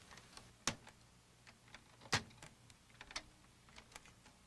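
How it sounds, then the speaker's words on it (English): Plastic tabs holding the keyboard of a 1989 Apple Macintosh Portable to its case are pressed back, making a few faint, sharp clicks and small ticks spaced apart in a quiet room. "simultaneously press back on each plastic tab securing the keyboard to the"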